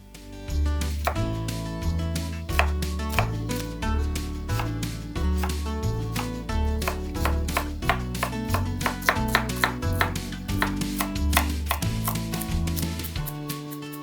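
A knife chops vegetables on a cutting board while making black-eyed pea soup with andouille sausage and collard greens. Quick, steady chops run for about fourteen seconds over background music.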